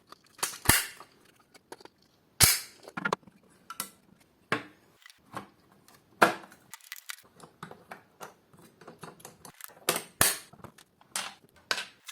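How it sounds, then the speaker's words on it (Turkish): Wheels being refitted onto an Arnica Tesla vacuum cleaner head give sharp plastic clicks and snaps, spaced irregularly across the span with quiet handling noises in between. "Tekrar geri takalım bunları ve montajını yapalım."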